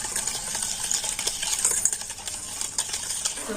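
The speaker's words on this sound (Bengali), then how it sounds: "আর এখন আমি টক দই চিনি গুঁড়ো আর সাদা তেলটা কিন্তু খুব ভালো করে ফেটিয়ে নেব" A whisk beats yogurt, powdered sugar and oil in a bowl, giving a steady close scraping and clicking that runs for a few seconds with no voices.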